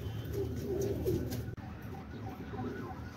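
Soft, low pigeon coos repeat in short phrases close by, over a faint background hum with a distant siren-like tone.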